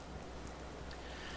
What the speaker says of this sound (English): We're just getting a bit of rain again